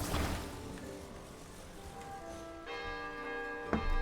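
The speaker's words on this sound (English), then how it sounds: "Can you ring the bell?" A bell struck in Zelda: Tears of the Kingdom rings out as a sustained, moderately loud tone, with a second fresh strike near the end and a brief sharp hit just after it.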